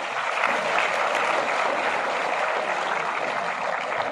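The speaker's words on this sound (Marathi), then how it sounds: "जोरदार टाळ्या देऊन त्यांचं स्वागत करूया" A lecture audience at a career guidance camp claps continuously, a dense even roar of many hands filling the room for the whole stretch with no speech over it.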